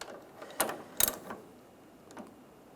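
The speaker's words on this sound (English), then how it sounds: "put the nut on, snug this nut down." A ratchet snugs a nut onto the tailgate damper stud of a Chevrolet Silverado, giving a few scattered, sharp clicks and clunks with gaps between them, close and fairly quiet, with no speech.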